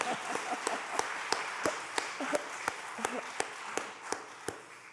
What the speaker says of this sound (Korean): 그래서 박수 한번 더 해드리겠습니다.